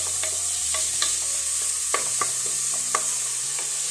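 Chopped onion sautéed in a pressure cooker for an egg curry, a close, continuous sizzle punctuated by sharp scrapes and taps of a spoon stirring against the metal pot.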